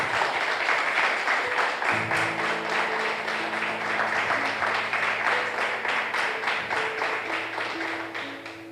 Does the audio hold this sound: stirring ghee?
no